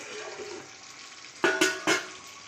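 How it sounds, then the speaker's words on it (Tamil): Steady sizzling of fish frying in hot oil, with a few louder crackling bursts of spatter near the end. "மீனும் வறுத்துட்ருக்கோம்"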